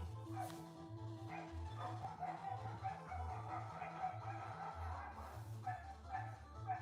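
Dogs bark and yip somewhere nearby during a board game session, fairly faint and intermittent beneath a steady pulsing music loop, with a little talk mixed in.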